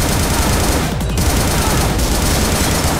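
Automatic rifle gunfire in the video game Butcher, a dense, loud, continuous fusillade of rapid shots running the whole length with a brief dip near the one-second mark.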